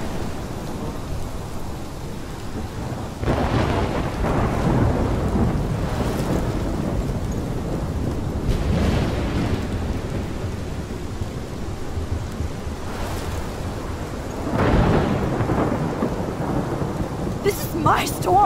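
Rolling thunder rumbles several times through steady heavy rain and some wind during a storm in Life is Strange, with no voices heard.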